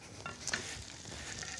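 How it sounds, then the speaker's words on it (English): Food sizzling and being stirred in a cruise ship kitchen, a soft steady frying hiss with a few faint clinks and scrapes. "We've got a bit of a sizzle going on here, ladies."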